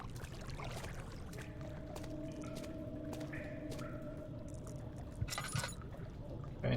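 Water pouring and dripping in the horror video game Amnesia, a faint continuous trickle with scattered drips and a few soft knocks, steady throughout without talk.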